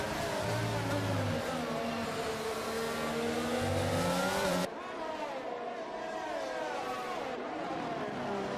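A McLaren race car engine in a racing video game on the Baku street circuit, a loud sustained high-revving drone with rising and falling pitch that cuts abruptly to a quieter, rougher engine note.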